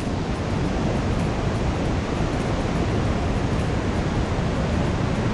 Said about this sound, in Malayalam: കണ്ട ഒരു രക്ഷയില്ലാത്ത വെള്ളച്ചാട്ടാണ്.